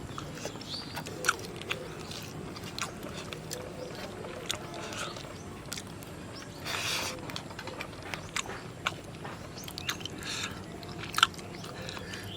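Someone eating small whole chuno fish, soft intermittent chewing and crunching close to the mouth, faint against a quiet outdoor background with no talking.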